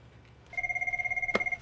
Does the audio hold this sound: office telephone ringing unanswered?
yes